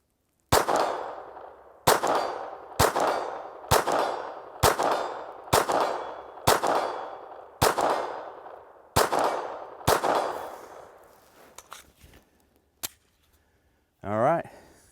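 Glock 44 pistol shots fire in a paced string of about ten sharp cracks, each followed by a faint ring off a steel target 50 yards away, then a few scattered clicks and a short voice at the end.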